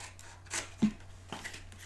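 Scissors snipping through paper along a score line while making a small fry box; a few quiet, separate cuts with short gaps between them.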